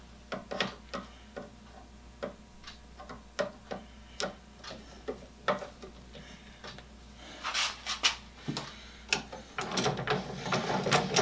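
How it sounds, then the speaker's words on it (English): A brass screw with a washer is tightened into a Panavise mount, giving a close series of sharp ratcheting clicks at an uneven rhythm that grow denser and scrapier toward the end, with no talking. "slip it through there, put the washer on it, and tighten it up"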